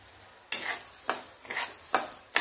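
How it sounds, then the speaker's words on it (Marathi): Coriander seeds dry-roasting in a pan are stirred in quick bursts, giving a rattling, scraping rhythm of about five close strokes with short gaps between them. "आता धणे भाजून घेऊया."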